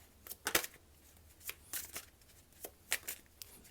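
Tarot cards are shuffled by hand in a quiet room, giving soft irregular riffling and slapping bursts close by with short pauses between them and no speech.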